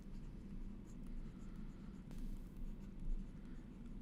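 A pen or marker scratches steadily across a board in a chemistry lesson, a soft continuous scraping with faint strokes over a low room hum.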